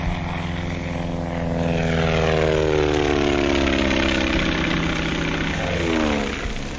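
A propeller airplane stunts overhead, its engine droning loud and close with a rising and falling pitch as it banks, loops and turns, and there is no talking.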